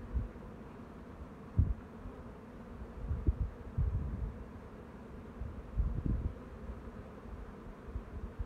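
Honey bees at an open hive in early spring, a faint low buzzing hum with occasional louder passes of bees near the microphone and light rustling.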